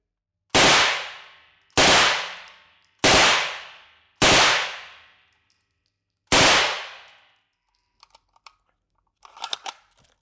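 A British submachine gun fires in the Hell Let Loose video game. There are five loud, sharp reports, each ringing off into a decaying tail, and the last comes after a longer pause. Faint clicks and rattles of handling follow.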